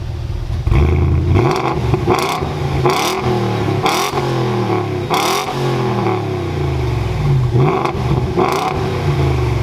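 A BMW X5 4.6is V8 with a previous owner's welded-on X-pipe exhaust revs hard in a run of loud, close blips, each rising and falling sharply, with the engine burbling between pulls and no voices.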